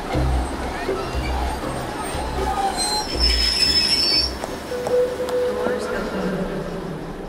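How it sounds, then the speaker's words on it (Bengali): A metro train rolls in with a rumbling low drone and high metallic wheel squeals, people talking over the noise nearby. "ওই যে রেল আসছে। কি মজা, কি মজা, মেট্রো রেল আসছে।"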